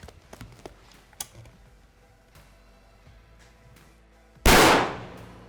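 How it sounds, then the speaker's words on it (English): A single sharp, loud rifle shot fired at a 100-yard target with ELD-X bullets cracks out near the end, ringing off briefly after a few faint taps and handling clicks. "Let's go shoot our group at 100 and just show you how accurate it is."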